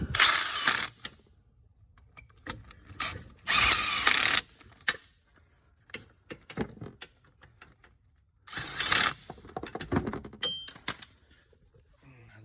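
A power tool snugs up the motor brake bolts on a 2008-or-later EZGO RXV 48-volt golf cart in three loud, whirring bursts of about a second each, separated by quiet clicks and handling noises.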